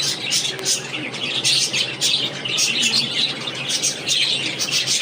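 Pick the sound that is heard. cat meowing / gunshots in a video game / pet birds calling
pet birds calling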